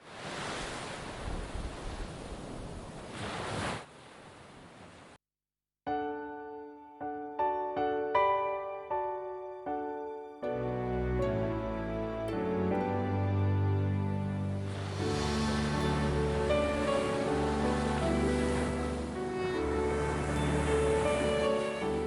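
Sea waves wash onto the shore at Pranburi, Thailand, as a steady hiss of surf for the first few seconds before a short silence, after which soft music takes over with the wave noise beneath it.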